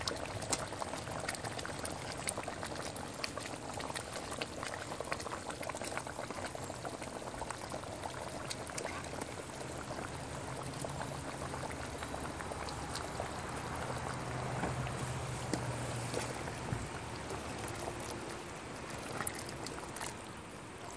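Green curry with eggplant bubbling in a pot, a soft continuous boiling burble with a gentle simmering hiss, steady and fairly quiet throughout.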